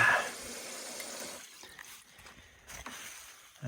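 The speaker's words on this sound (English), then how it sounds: "A nice shower here in the woods." Outdoor shower running in the woods at an off-grid cabin, a steady soft hiss of falling water that is louder at first, then settles to a low continuous spray with small splashes.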